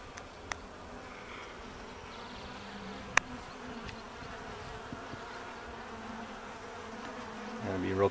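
Carniolan honeybees at an open hive give off a steady, close buzzing drone that holds throughout, with a few sharp clicks and a louder burst of movement near the end.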